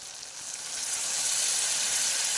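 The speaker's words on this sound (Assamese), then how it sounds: "এইখিনিতে এবাৰ ভালদৰে লৰাই ইয়াত দি দিম গৰম পানী" Hot water poured into frying chicken curry sets off a bright hiss that swells and grows louder over a couple of seconds, close and alone.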